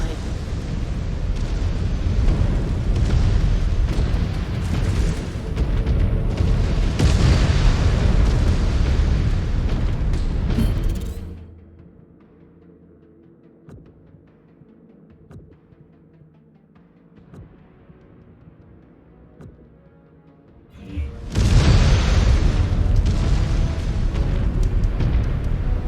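Heavy, rumbling explosions as mechs are destroyed in the MechWarrior 5 Clans video game, a loud sustained blast roar, a quiet lull of low rumble, then another loud burst of booming destruction.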